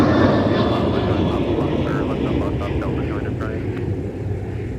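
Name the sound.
airplanes taxiing at Minneapolis–St. Paul airport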